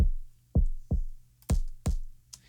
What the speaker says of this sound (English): it's just a punch sound effect